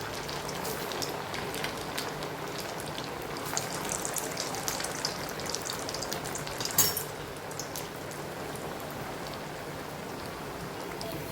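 Vadas fry in hot oil over a low gas flame, a steady soft crackling sizzle with scattered pops throughout, close and continuous, with no talking.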